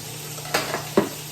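Bacon frying in a cast iron pan, a faint steady sizzle under a couple of soft metallic clinks from utensils, brief and close.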